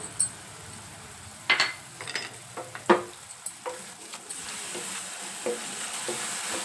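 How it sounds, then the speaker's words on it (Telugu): Tomato puree frying in a pan with onion, onion paste, ginger and green chillies for tomato rice, a soft steady sizzle broken by a few sharp stirring scrapes and clinks of a spoon against the pan, heard close with no talking. "ఇది బాగా పచ్చివాసన పోయేంత వరకు వేయించుకోవాలి"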